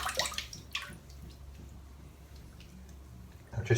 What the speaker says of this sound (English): I'm just going to rinse my head.